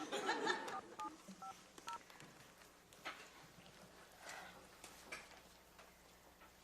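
Faint, quiet push-button telephone dialing: a short run of beeping key tones at the start, then scattered soft clicks and taps over low room noise.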